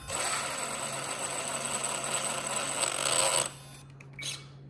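Small SCX6 RC crawler motor whining steadily at a loud, even pitch, then cutting off abruptly as the shift servo moves the transmission, followed by a brief faint whir and quiet.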